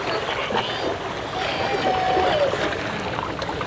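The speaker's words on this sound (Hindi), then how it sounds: "पानी की आवाज़ सुनाई दे रही है आप लोगों को," Ocean waves at Tarpon Springs Beach in Florida wash in a continuous, fairly close surf hiss with no clear breaks, and a faint voice sits low in the mix.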